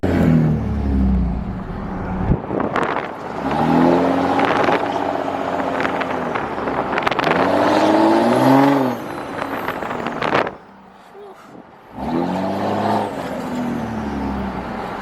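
A rowdy third-generation diesel pickup revving and accelerating from inside the cab, loud engine surges rising and falling in repeated pulls, with a brief near-silent lull before the roar returns.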